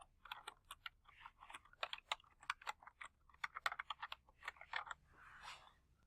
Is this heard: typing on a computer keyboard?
yes